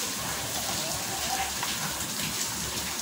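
Heavy rain falls in a constant, dense hiss of drops hitting surfaces, fairly faint and even throughout, with no talk.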